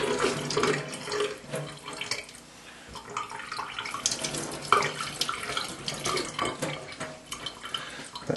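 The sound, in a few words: running BT4 gun part under tap water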